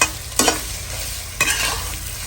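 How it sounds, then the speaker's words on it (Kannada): Grated coconut sizzles in a hot tempering, a steady oil hiss broken by two sharp stirring scrapes of a spoon against the pan, close and fairly loud with no talk. "ಒಗ್ಗರಣೆಯಲ್ಲಿ ಸ್ವಲ್ಪ ಕಾಯಿನ ಹುರ್ಕೋಬೇಕು, ಸ್ವಲ್ಪ ಪರಿಮಳ ಬರುವವರೆಗೆ ಹುರ್ಕೋಬೇಕು"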